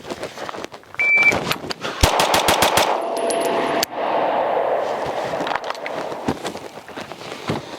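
Six rapid pistol shots fired through a Ghenghis Comp C2X compensator, sharp evenly spaced cracks in quick succession, followed by a few more scattered shots on an outdoor range.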